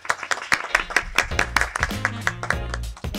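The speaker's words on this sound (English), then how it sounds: "If we could please give Andrea a round of applause, who will be moderating today." A small audience at a transfer student conference employer panel claps for the moderator: distinct, uneven hand claps ringing out over a steady murmur of voices.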